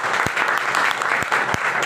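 Loud, sustained audience applause, a thick even roar of clapping hands punctuated by a few sharper, louder claps that stand out near the front.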